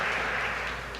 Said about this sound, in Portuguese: Vamos dar uma salva de palmas para o Everton, irmãos.